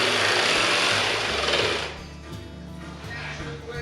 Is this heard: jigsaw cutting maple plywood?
yes